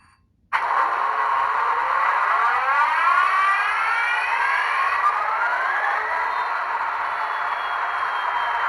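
An Athearn Genesis 2.0 CP SD70ACU model diesel locomotive's startup sequence: a sudden electronic tone rises into a steady, sweeping synthesized hum with shifting whine, sustained loudly and alone after a short silence.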